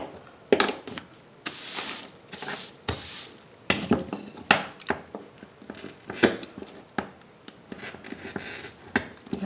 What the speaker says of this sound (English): So we're helping the glass out here by relieving some stress by putting in those extra score lines.